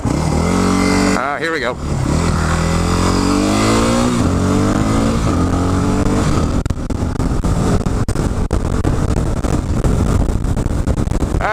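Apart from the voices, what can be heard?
motorcycle engine riding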